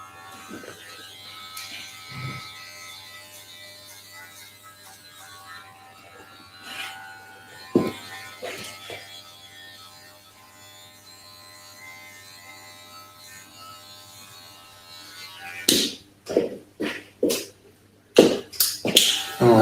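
Electric hair clipper with a 1.5 guard and its taper lever closed, cutting hair in a haircut: a faint steady buzz with short strokes, then louder bursts of clipping and handling noises near the end.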